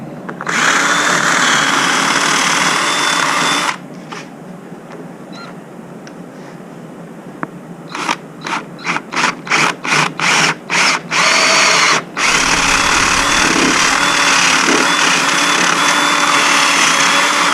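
A power drill bores into metal during an OM603 diesel engine swap into a Ford Ranger, sounding loud and close in long steady runs of whine, then a stretch of quick on-off bursts and a final sustained run.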